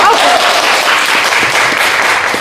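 Audience applause fills a crosstalk theatre at a Deyunshe comedy show, a dense, steady wash of many hands clapping that holds at full strength for about two seconds.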